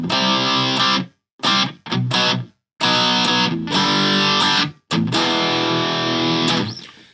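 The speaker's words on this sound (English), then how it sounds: "The third channel, this is kind of like a distortion channel." Enya Inspire guitar heard through its onboard speaker on a distortion channel: loud, heavily saturated chords strummed in choppy bursts with short silent breaks, ending in a long sustained ring.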